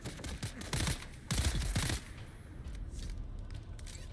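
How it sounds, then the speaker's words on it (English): Bursts of rapid video game gunfire from Dune crackle in quick volleys, followed by quieter scattered noise, sounding somewhat distant and compressed. "Nobody else heard the gunshots."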